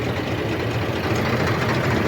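A mud-covered tractor idles on a farm field being prepared for maize sowing. It gives a steady, close, low rumbling drone with no break.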